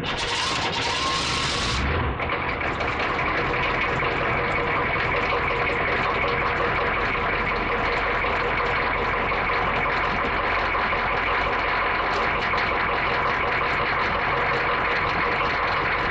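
Cold start of an M1008 CUCV military truck with a 6.2L diesel engine: a short starter crank then a loud, steady, rough diesel idle with knocking clatter, close and continuous without speech.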